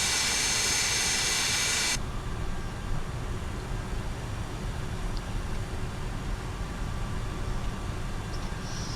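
McDonnell Douglas MD-80 jet engines in Microsoft Flight Simulator 2024 give a steady, loud roar, with a broad hiss that cuts off abruptly after two seconds and leaves a lower, even engine drone.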